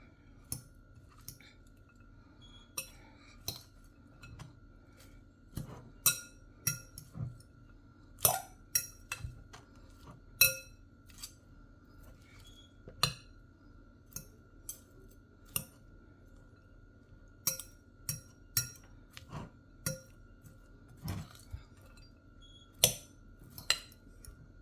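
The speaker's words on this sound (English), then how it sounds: "so we're gonna mix everything together" Ingredients for a low-calorie spiralized salad being tossed together in a bowl, with irregular sharp clinks and taps of utensils against the dish scattered through a quiet background, some clicks louder and closer than others, no talking.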